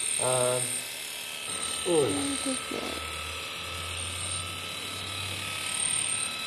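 Electric clippers trim a horse's head around the ears, a faint steady buzz running low beneath a voice that talks briefly at the start.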